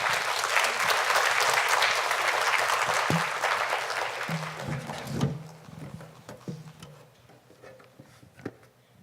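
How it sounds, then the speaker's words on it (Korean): Church congregation clapping to welcome a guest speaker, a loud, full round of applause that fades after about five seconds into scattered claps and light knocks and shuffles. "박수로 환영하도록 하겠습니다."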